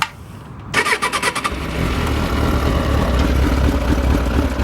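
Suzuki GSX750F Katana motorcycle engine cranking with a rapid burst of starter pulses, then catching and settling into a steady, loud idle rumble, recorded close up from the fuel tank with no talking.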